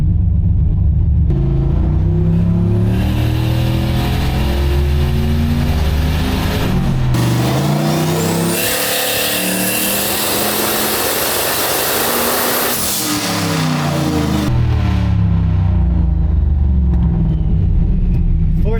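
Turbocharged Oldsmobile engine on a dyno with a Holley Terminator X and boost controller, loud and close, revving steadily upward through a long pull, peaking in a roaring, whooshing climax, then winding back down.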